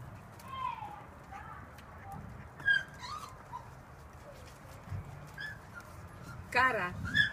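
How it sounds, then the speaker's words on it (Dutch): Labradoodle puppies in their nest give thin, high whimpers and squeaks in scattered short bursts, close by and fairly quiet, with a louder cluster of cries near the end. "Puppies."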